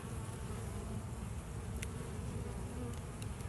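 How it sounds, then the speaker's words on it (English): Honeybees buzz densely all around an open hive during an inspection, a steady close swarm hum with no voices. "all the bees, I am blocking their path so they're flying that way. I can hear them"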